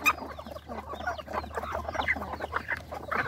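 A flock of farm chickens clucks continuously at close range, several birds overlapping in busy, uneven bursts of calls with no talking.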